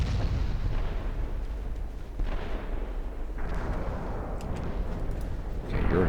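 Naval secondary guns boom in the warship battle game Ultimate Admiral Dreadnoughts, a loud, continuous rumble of overlapping shots and blasts with a sharper burst near the end.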